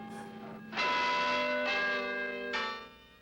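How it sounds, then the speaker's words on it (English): Automated church tower bells strike the hour overhead, three loud ringing strokes about a second apart, each with a long sustained metallic hum, no voices. "patiently counting the automated chimes above her head"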